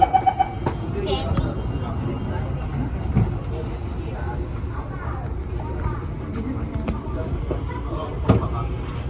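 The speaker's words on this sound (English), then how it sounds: "Doors are closing." Singapore SMRT Thomson-East Coast Line CT251 metro train, a Kawasaki and CRRC Sifang model, closing its doors and pulling away, with a steady low rumble of rolling stock and brief clunks, heard from inside the carriage with people talking.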